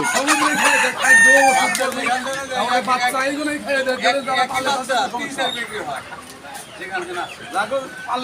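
Chickens cluck and a rooster crows loudly and close at a poultry market selling local and Sonali birds, with busy overlapping bird calls and people talking in the background.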